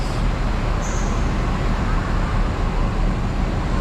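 A bus pulls into Alor Setar bus terminal in Kedah, Malaysia, its steady engine rumble and broadband traffic noise filling the clip at a close, loud, even level without a break.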